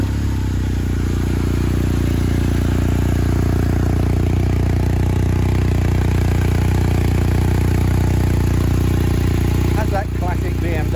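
A 2022 BMW R1250R SE motorcycle engine starts and runs steadily at a loud, low idle, with a brief clatter near the end; a voice can be heard talking over it.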